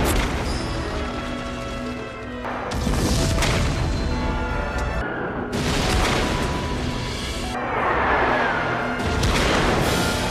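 Heavy wartime explosions boom in repeated bursts, each blast loud and roaring with rumbling debris and crashing, forming a continuous barrage of battle detonations.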